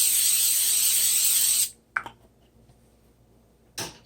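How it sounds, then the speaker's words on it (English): Coconut oil cooking spray hisses steadily into a pierogi pan for about a second and a half, loud and close, then stops; a couple of faint clanks from the pan follow. "Coconut spray on the bottom."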